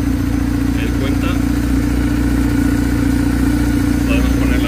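A BMW R1150 R motorcycle engine runs steadily at a low idle throughout, a constant rumbling drone with no pauses.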